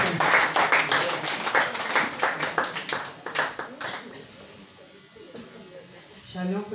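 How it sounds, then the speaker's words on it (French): A church congregation claps for a child, a burst of rhythmic, close clapping that tapers off after a few seconds, followed by a quieter stretch with a voice at the end. "Est-ce qu'on peut applaudir pour l'enfant?"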